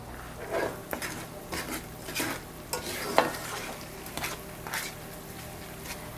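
A spoon stirring a Cajun seafood boil with Old Bay seasoning in a pot, giving repeated scraping, clinking strokes at a steady rhythm over a soft sizzle, close and alone with no talk.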